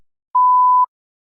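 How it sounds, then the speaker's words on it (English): A single steady electronic test-prompt beep for a speaking exam, a clean pure tone lasting about half a second, loud and isolated against silence. "You may begin to prepare your response after the beep."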